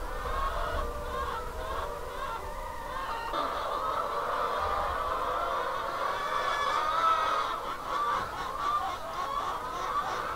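Chickens cluck and murmur continuously in a flock, with occasional louder squawks rising above the steady background chatter.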